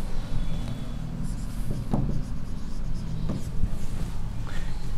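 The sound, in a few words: writing on a board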